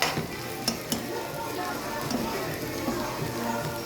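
Potatoes sizzling in a hot pan, a continuous dense crackle with a few sharp pops and scraping stirs near the start, while someone talks quietly in the background.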